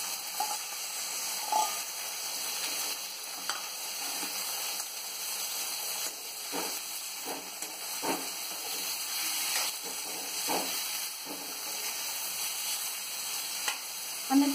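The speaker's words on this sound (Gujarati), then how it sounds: "કાંદા સતળાઈ ગયા છે, હવે આપણે એની અંદર ટોમેટો નાખીએ છીએ," Chopped tomatoes sizzling in a pan over sautéed onions, a continuous close frying hiss with occasional stirring scrapes and light spatters, no voices.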